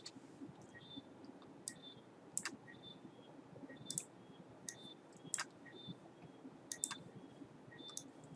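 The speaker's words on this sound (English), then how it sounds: "So when I click on F5" Faint, sharp key clicks from a computer keyboard sound one at a time at irregular intervals over a quiet room background.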